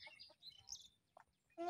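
A chicken gives a few short, soft clucks in quick succession, faint and close, with a brief louder, more tonal call cutting in right at the end.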